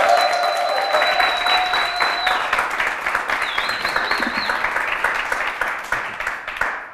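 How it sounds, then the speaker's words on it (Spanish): Studio audience at a late-night game show clapping for contestants as they come out, steady applause with whistles, gradually fading out. "Un fuerte aplauso que se lo merece."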